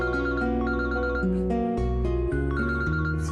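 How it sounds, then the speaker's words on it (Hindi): A phone's tonal ringtone melody plays up close in a steady stepping pattern of notes over a few seconds, heard indoors with no speech over it. "सुहेब का फोन।"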